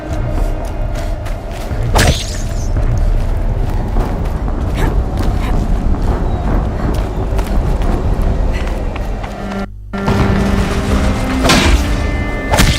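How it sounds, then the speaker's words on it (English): Explosions in the video game Horizon Zero Dawn: a heavy booming blast lands early, followed by ongoing rumbling action, a brief cut to silence, and further thuds and booms. "Explosion."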